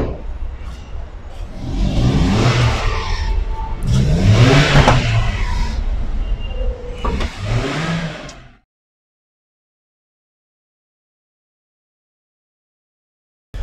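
A 2005 Toyota Allion A-15 engine revs loudly up close in three strong surges, each rising and falling, before cutting to silence.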